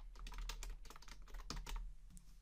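Quick bursts of typing on a computer keyboard, a run of close, soft clicking keystrokes at a fast uneven pace, quiet and alone without any talking.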